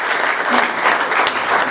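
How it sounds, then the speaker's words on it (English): Dense crowd applause swells at the 2012 Ike Awards presentation, a loud continuous clatter of many hands clapping together without speech. "a round of applause for all those people"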